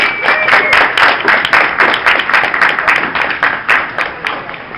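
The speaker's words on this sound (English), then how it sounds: "Give a round of applause." An audience at a cosplay showcase claps in a loud, dense burst of applause that holds steady for several seconds, close and filling the room, with a few scattered whoops but no clear speech.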